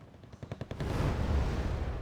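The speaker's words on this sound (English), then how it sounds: "Apache Escort getting a little bit too close, taking some machine gun fire" A fast burst of about seven close machine gun rounds rattles out in the real-time strategy game Wargame Red Dragon, then gives way to a heavy, sustained roar of battle rumble.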